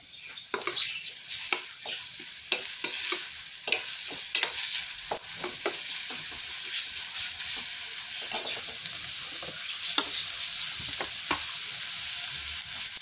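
Onion frying in oil in a pan for egg bhurji, giving a constant loud close sizzle broken by repeated quick clicks and scrapes of a stirring spoon, with no voices.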